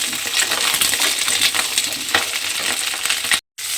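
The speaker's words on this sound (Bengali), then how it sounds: "আমি এই ফুলকপি আর আলু একসঙ্গে একটু লাল করে ভেজে নেব" Cauliflower florets and potato pieces frying together in hot oil, a loud, dense, continuous crackling sizzle close up, cutting off abruptly near the end.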